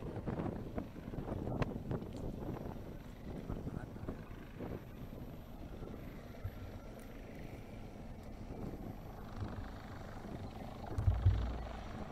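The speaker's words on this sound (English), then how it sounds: "It hovers, and actually we can see 2 helicopters." Military helicopters hover over water during a live-fire exercise, their rotors a low, broad rumble mixed with wind noise and heard at a distance, under a voice.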